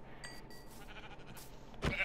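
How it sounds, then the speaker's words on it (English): Sheep in the Minecraft video game bleat in a few short calls, with a louder bleat near the end, fairly faint over game background sound. "go hit some sheep with my sword."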